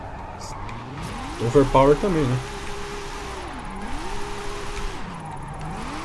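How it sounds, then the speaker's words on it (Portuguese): A BMW sliding sideways in Forza Horizon 5, drifted without the handbrake: a sharp tire squeal in the middle over a steady engine drone that rises and falls in pitch, with someone talking over it. "o jeito que eu tô fazendo o drift é sem usar o freio de mão"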